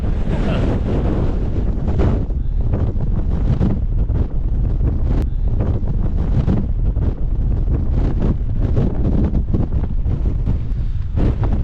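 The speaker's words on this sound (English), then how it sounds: "The wind is coming from this direction and it's just lifting all the snow, blowing it off that side of the valley" Strong wind buffets the microphone as it blows snow across a deep-snow winter summit at Cul Mor in Scotland. The roar is loud, continuous and gusting throughout, with no talk.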